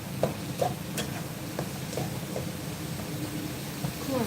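Beef is stir-fried over high heat for khua kling, a spatula scraping and tossing in a pan amid a low sizzle, with a few sharp clinks, up close and without talk.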